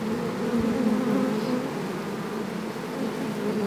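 Honey bees hum steadily around a hive while a queen is introduced, a dense, close, continuous buzz swelling slightly and holding throughout.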